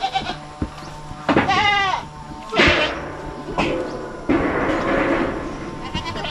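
A goat on a Filipino farm bleats loudly up close, one wavering, quavering cry followed by rougher bleats and noisy shuffling, with thumps and other farmyard sounds around it.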